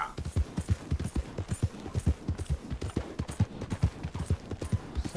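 Horse hooves clip-clopping steadily at a walking pace in Red Dead Redemption 2, a close, even run of distinct thuds carrying on for several seconds with no talking.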